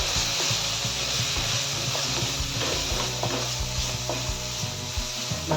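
Chicken frying with tomato, chilli powder, turmeric and garam masala crackles steadily in the pan, with repeated scraping and stirring knocks of a spoon throughout.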